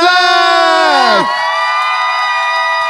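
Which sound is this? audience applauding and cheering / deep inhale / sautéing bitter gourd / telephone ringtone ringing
audience applauding and cheering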